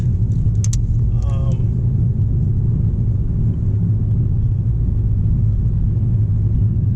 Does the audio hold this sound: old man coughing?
no